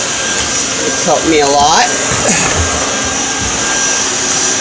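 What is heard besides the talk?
vacuum cleaner cleaning a trailer's wooden floor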